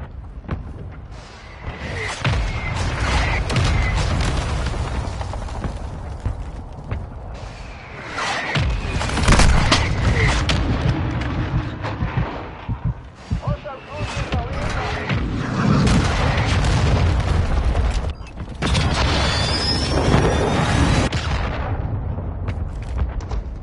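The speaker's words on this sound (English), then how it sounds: "Hostile mortar strike in the area." Mortar strike explosions in a video game rumble loud and close in a sustained barrage of booms and blasts, with dense heavy impacts throughout and brief lulls between waves.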